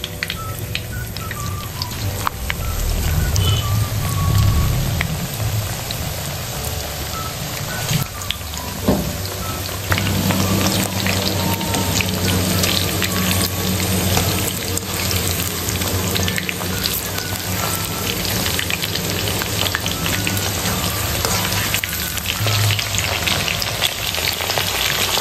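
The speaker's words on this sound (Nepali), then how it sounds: "अब म चिकन फ्राई गर्छु है त" Chicken pieces frying in hot oil for Nepali chilli chicken, a loud, dense, continuous crackling sizzle close to the pan, with a brief low clunk partway through and no talking.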